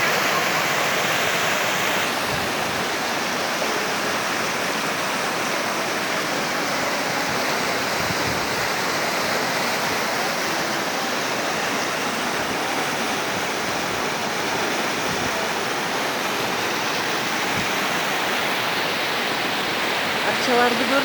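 A clear glacier-fed mountain stream on a high summer pasture rushes in a steady, loud, broadband roar that holds unchanged throughout, with no breaks and no clear talk.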